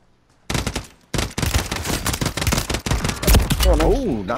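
Video game gunfire in Plunder mode comes as loud, rapid machine-gun bursts with short gaps between volleys, while a voice talks over the shooting near the end.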